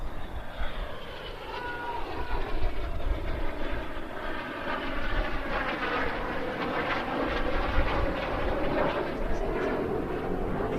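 Aerobatic display jets at the Bournemouth Air Festival roaring overhead, a sustained loud engine rush that swells and recedes with shifting pitch as the aircraft pass, over a noisy outdoor crowd backdrop.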